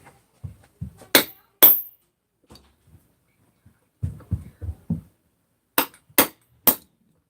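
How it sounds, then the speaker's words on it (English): Sharp metallic taps and cracks, several in quick succession, come from work on the crankcase of a Husqvarna 288 chainsaw as the crankcase seal is driven out, with quieter knocks and clinks between them; close and isolated. "Seal pops out."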